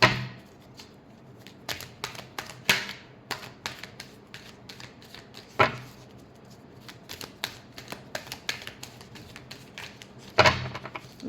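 Tarot cards being shuffled by hand at a reading, a rapid run of crisp riffling flutters and slaps with a few louder card snaps, close and steady over about eleven seconds.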